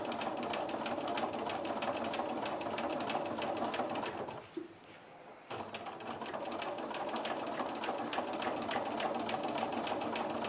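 Sewing machine with an open-toe foot quilting clamshell arcs along a grid, running in a fast steady whir close by, briefly stopping for about a second midway, then resuming at full speed.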